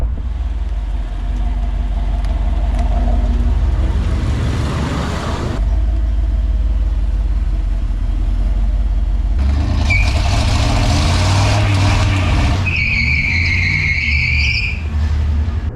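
A barn-find Camaro IROC-Z, long unused, revs hard with its rear wheels spinning, a loud rough engine roar cut by gear changes, ending in a high tire squeal.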